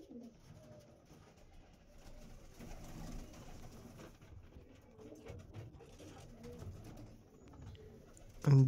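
Andhra Lambadi pigeons coo in a loft, low soft burbling calls repeating through a steady murmur of background noise, with a louder bump near the very end.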